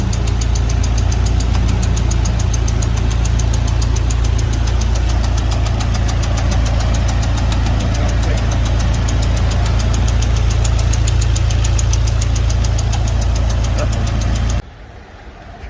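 A 400whp Hyundai Genesis 2.0T runs hard on a dyno with a suspected small exhaust leak, making a loud, sustained, rough engine roar with a rapid pulsing rattle. Voices talk over it, and the roar cuts off abruptly near the end.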